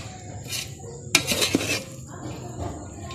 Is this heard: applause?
no